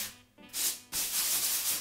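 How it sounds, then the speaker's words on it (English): Sandpaper wrapped around a sanding sponge rubs lightly over a small patched spot on an interior wall. The close, dry scratching strokes come in short bursts with a brief pause between them. "I take my little sanding sponge here and I take a piece of sandpaper and wrap it around there, and I just very minimally"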